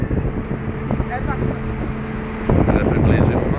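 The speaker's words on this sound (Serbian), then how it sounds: "Evo ga, brod." A boat passes on the water with a low engine drone under wind rumble. The drone fades and gives way to louder noise near the end, while people talk nearby.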